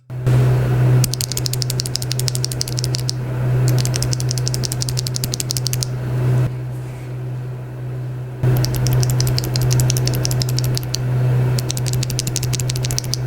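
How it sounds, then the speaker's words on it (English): Bursts of rapid mechanical keyboard clacking from Durock T1 switches, stock and modded, close and crisp, in several runs separated by short pauses over a low steady hum. "let's listen to stock versus modded T1 switches"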